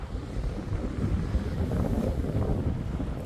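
Strong wind on Roker Beach in Sunderland buffeting the microphone, a rough low roar that gusts unevenly for a few seconds.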